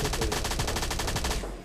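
Rapid automatic gunfire in the mobile shooter PUBG Mobile Lite, a fast even burst of about a dozen sharp shots ringing out loud and close before cutting off.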